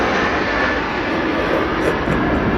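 An airplane passes over a residential neighborhood near an airport, its engine a loud, steady broadband roar that holds at the same level throughout with no voices.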